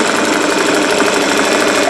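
Singer 401A sewing machine running on its foot pedal, a steady close mechanical whir with a fast even rhythmic ticking, loud and alone.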